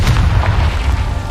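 A Confringo spell explosion in the video game Hogwarts Legacy, a loud, deep, rumbling boom filling the whole short moment with no speech.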